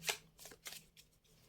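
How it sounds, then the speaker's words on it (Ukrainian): Tarot cards are shuffled with a few quick riffling bursts, close and quiet. "Що нам зараз покажуть карти?"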